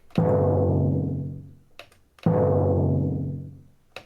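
Two separate strikes of a sampled orchestral timpani, each booming with a pitched, ringing tone that slowly fades over about a second and a half, with faint clicks between hits.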